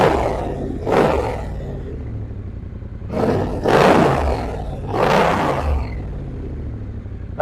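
A 2017 Triumph Bonneville T120 Cafe Racer motorcycle engine is revved three times over a rumbling idle, each throttle blip rising into a loud, roaring burst before settling back, heard close with no talk.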